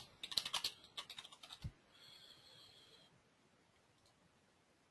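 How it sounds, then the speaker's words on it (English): Quick bursts of clicking keystrokes on a computer keyboard, close and fairly quiet, lasting about a second and a half before a faint electronic tone and then near silence. "Just let me type the answer."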